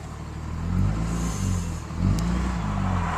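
Truck engine idling and revving softly in drive during a DOT brake inspection, a steady low rumble with a few gentle swells, close and alone without talk.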